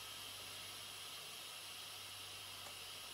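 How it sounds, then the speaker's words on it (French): Steady, soft hiss of steam escaping from a Cookeo pressure cooker after cooking a semolina cake, a continuous even release without pauses or voices. "La vapeur s'en va."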